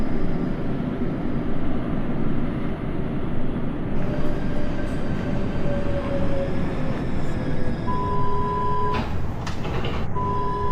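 An NYC Subway R142A train runs on the 6 line toward Brooklyn Bridge City Hall in the OpenBVE simulator, a steady loud roar of motors and wheels with rising whines and a few sharp bursts near the end.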